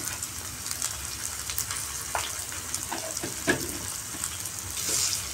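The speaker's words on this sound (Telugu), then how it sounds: "అల్లం వెల్లుల్లి పేస్ట్ కూడా మొత్తం కలుపుకొని ఫ్రై చేసుకోవాలండి బాగా" Ginger garlic paste frying with onions in a pan for a meal maker pulao, a soft steady sizzle with a few clinks and scrapes of stirring, close but fairly quiet, no talking.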